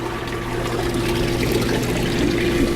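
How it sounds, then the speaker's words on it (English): Rainwater running through piping toward a vortex filter on a harvesting display, a steady close gurgling flow with a constant low pump-like hum underneath and no pauses. "You can see the water coming through the piping here, going through the clear piping there, and going to that vortex filter."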